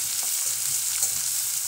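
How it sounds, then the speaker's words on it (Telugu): Okra fries with onions and green chillies in a steady, close hiss of sizzling oil, with faint stirring beneath and no voices. "ఇలా ఫ్రై చేసుకున్న తర్వాత ఆనియన్స్ పచ్చిమిర్చి"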